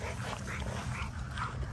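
Dogs whimpering and yipping at a puppy yard, a steady low murmur of soft canine whines running throughout at moderate distance.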